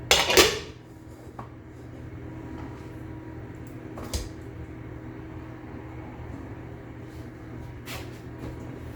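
Chicken goes into a pressure cooker in a quiet home kitchen. A sharp metallic clatter of the pot opens the scene, followed later by two softer knocks against cookware over a low, steady hum.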